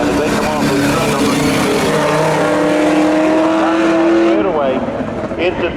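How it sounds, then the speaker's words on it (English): A Camaro and a Subaru roar side by side down the drag strip at Seekonk Speedway, loud engines revving hard and then dropping off at the finish as an announcer talks over them. "Liam Monahan, the Camaro, going up against Jeff Daniels in the Subaru"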